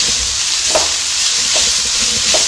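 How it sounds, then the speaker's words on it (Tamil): Finely cut beans and cabbage, salted, sauté in a pan for vegetable noodles. The loud, steady sizzle fills the clip, with a few soft stirring knocks underneath. "கட் பண்ணி வச்சிருக்கிற பீன்ஸ் நல்லா வதங்கட்டும். இது கூட பொடியா கட் பண்ணி வச்சிருக்கிற முட்டைகோஸ்"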